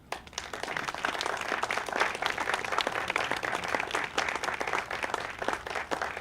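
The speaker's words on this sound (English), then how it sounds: "Let's give her a round of applause." Steady crowd applause at a Memorial Day ceremony after a keynote, many hands clapping together in a continuous, moderately distant wash that holds throughout.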